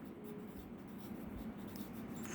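Faint chalk or pen strokes during an English class, soft scratchy writing under a low steady room hum, no talking.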